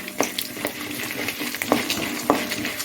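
Mustard seeds and chana dal frying in oil for mango rice, a soft continuous sizzle punctuated by a few sharp spoon clicks against the pan, close and without speech.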